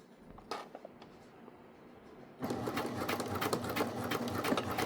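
A sewing machine top stitching a small credit card wallet with a 1/8 inch guide starts after a few faint handling clicks, then runs in a close, steady, rapid whirring chatter.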